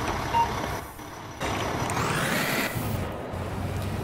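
In the EmergeNYC emergency game, a fire truck engine rumbles steadily as the truck pulls away, with a rising tone and an air-brake-like hiss in the middle.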